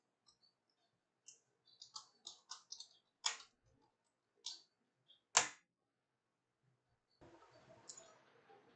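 Computer mouse clicking, heard as scattered, crisp, close clicks in small clusters with a couple of sharper louder ones, then a faint rustly handling noise near the end, quiet overall with no speech.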